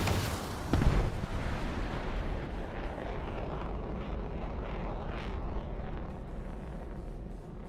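An ME-262 jet in a combat flight game, a steady roaring engine rumble with a heavy thump early on, loud and continuous throughout.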